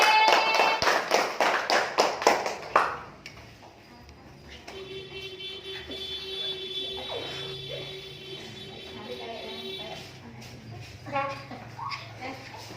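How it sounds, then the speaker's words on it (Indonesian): Students in a classroom clap together in a quick burst of sharp, close claps for about three seconds, then the clapping stops and quieter talking and shuffling fill the room. "Ayo tepuk tangan buat Nona."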